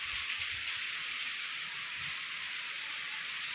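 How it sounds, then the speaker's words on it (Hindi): Dense, steady hiss of heavy rain pouring down continuously amid flooding, a broad wash of sound with faint low rumbles underneath. "पता नहीं बारिश कब रुकेगी आज"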